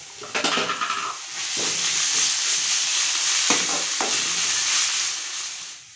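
Chopped onions with curry leaves and ginger garlic paste sauté in a hot pan for a chicken roll filling. A loud, continuous sizzle runs throughout, with spatula scrapes and stirring knocks near the start and midway.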